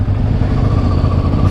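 An old Honda Africa Twin motorcycle engine drones steadily while riding, a loud, continuous mid-pitched rumble with a mechanical clatter and no gaps.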